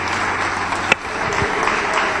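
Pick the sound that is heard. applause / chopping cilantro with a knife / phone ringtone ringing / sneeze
applause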